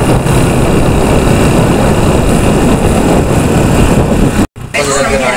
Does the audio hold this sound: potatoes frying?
no